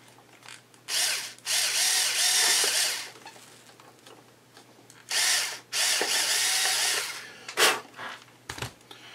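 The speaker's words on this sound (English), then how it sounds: "Drill through this very carefully." A power drill whirs in several bursts while drilling a hole on a Sig Somethin' Extra build, long runs broken by short pauses and quick stop-start revs, loud and close.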